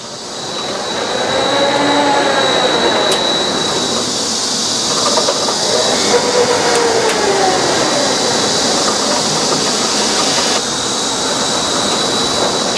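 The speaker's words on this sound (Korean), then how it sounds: "대부분의 놀이기구가 개장 전 테스트 시운전을 실시하는데요" Amusement park ride running a test cycle before opening: a loud, steady mechanical roar with rising and falling whooshing sweeps and a constant high whine, no talking.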